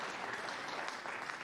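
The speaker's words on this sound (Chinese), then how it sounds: "隔壁球台掌声雷动" Applause rising from a neighbouring table at a professional snooker match between Thepchaiya Un-Nooh and John Higgins, a steady, fairly faint wash of distant clapping from a crowd, heard alone for a moment.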